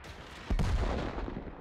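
A World of Tanks artillery piece fires once, a single heavy booming blast with a rumbling low tail, loud and close after a quiet lead-in.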